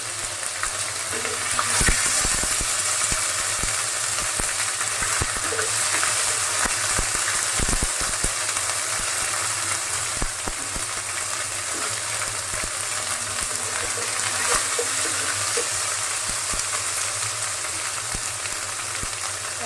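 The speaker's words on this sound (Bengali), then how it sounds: "আদা রসুনটা সবসময় একটু আলাদা ভেজে নিই" Ginger garlic paste fries in a pan with a steady close sizzle and crackle, punctuated by occasional sharp stirring knocks and scrapes, and no one speaks.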